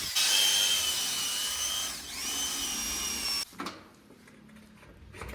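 A makeshift tool bores a lock hole in a door in place of a forgotten grinder, a loud steady high-pitched whine for about three seconds with a dip in pitch, then it stops abruptly, leaving a few clunks and quiet handling.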